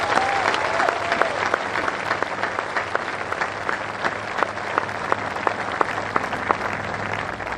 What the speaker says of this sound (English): Please join me in giving all of you a round of applause.